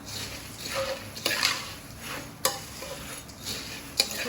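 Puffed rice being stirred with oil and peanuts in a pan, giving a steady dry rustling scrape with a few sharp knocks of the spoon against the vessel, close and moderately loud with no talking.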